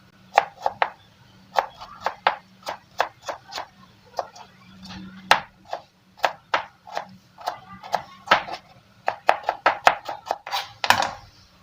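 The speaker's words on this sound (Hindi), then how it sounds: "इसे अब काट लेना है बारीक बारीक" A knife finely chops potatoes on a cutting board, producing a long run of crisp, quick taps in an uneven rhythm, close and clear, with a few louder strikes near the end.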